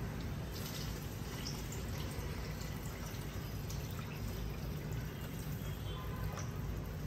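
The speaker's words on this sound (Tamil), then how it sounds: "இப்போ நம்ம தேவையான அளவு தண்ணி சேர்த்துக்கலாம்." Water from a bottle pours into a cooking pan while Bombay chutney is being made, a steady, quiet continuous splashing and trickling stream that runs evenly for several seconds.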